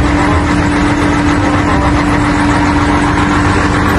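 A truck engine idles steadily and loudly up close, a constant low rumble with a humming drone and no breaks, with no talk over it.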